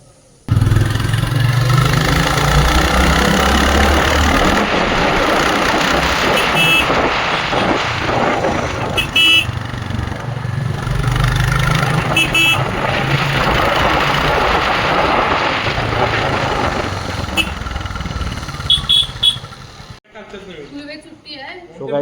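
Royal Enfield Classic 350 motorcycle engine running steadily at a low throb for most of the stretch, with varying revs, heard close under wind and chatter, with people talking throughout.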